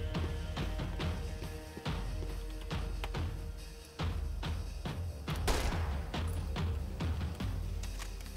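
Gunfire in the video game Max Payne 3 rings out as a rapid string of sharp, loud shots in an uneven rhythm, with one heavier blast near the end and no talking.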